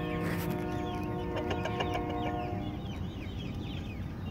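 A broody hen clucks close by in a steady run of short, throaty calls, with no voices.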